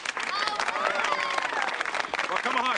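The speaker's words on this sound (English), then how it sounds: "let's have a big round of applause" Applause from an audience at an awards-style gathering in a TV drama scene, a dense, steady spatter of clapping lasting a few seconds, mixed with crowd murmur and some tonal background sound.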